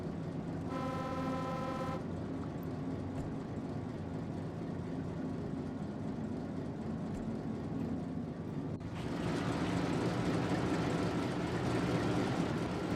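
A CD Class 750 diesel locomotive runs in the Derail Valley train game with a loud, rattly, steady engine drone, a sustained horn tone early on, and the rumble growing louder near the end.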